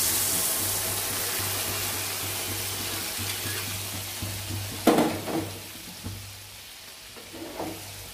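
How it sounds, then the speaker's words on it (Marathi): Ragda, a mashed white-pea mixture, frying in spiced oil in a pan with garam masala, giving a steady soft sizzle with a low hum beneath and a few sharper scraping stirs near the middle and end; no talking. "छानसं आपण फ्राय करून घेणार आहोत."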